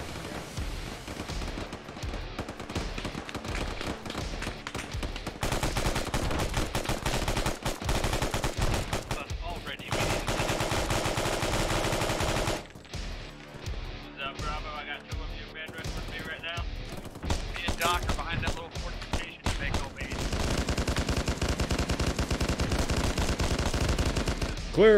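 Loud, close gunfire in the military shooter Arma, with bursts of rapid automatic fire and single shots across a long stretch, broken by brief pauses, and voices shouting over the shooting.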